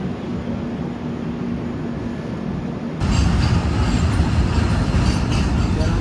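An Okha Express train with LHB coaches runs along the tracks, a steady loud rumbling roar that grows heavier and louder halfway through, continuous throughout with no talking.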